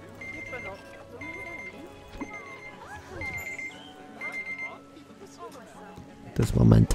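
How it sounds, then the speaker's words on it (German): Repeating electronic beeps from a kitchen timer sound in several short, evenly spaced bursts, with busy game sounds and chatter-like noise underneath and a loud burst at the end. "Das war mein Timer."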